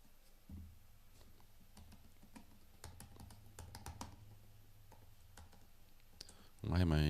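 Clicks of typing on a computer keyboard in bursts of keystrokes, fairly quiet and close, with a louder clatter near the end.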